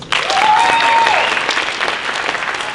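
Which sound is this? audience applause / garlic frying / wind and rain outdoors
audience applause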